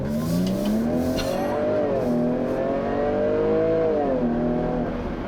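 A 2017 Jaguar F-Pace S engine revs loudly and close by, its pitch climbing and dropping through several throttle blips in a smooth sustained roar.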